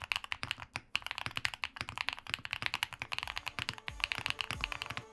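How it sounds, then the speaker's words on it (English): Fast, steady typing on an Owlabs Vento 80 mechanical keyboard with full foam fill, giving a deep, creamy clack. Dense, close keystrokes run continuously without pause. "Then there's the all foam sound, which is deep and creamy, and probably the reason why you started getting into mechanical keyboards."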